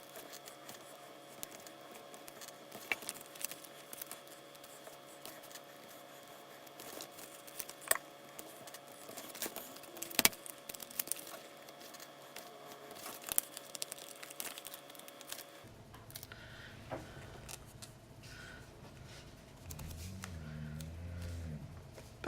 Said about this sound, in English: now we can bring in some foil overlays